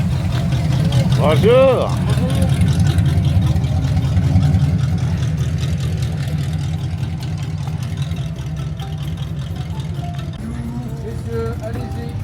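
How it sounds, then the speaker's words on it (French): A classic Cadillac at a convertible car gathering in Louhans, its engine a steady low rumble close by throughout, with a brief rise near the start and a greeting spoken over it. "Belle petite Cadillac qui vient d'arriver."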